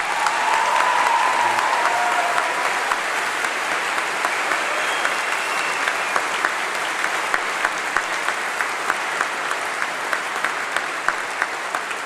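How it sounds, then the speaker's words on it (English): Audience applause at a university summer congregation ceremony: steady, sustained clapping from a large crowd that holds at an even level for about twelve seconds without fading. "I would like to extend a big warm round of applause to you."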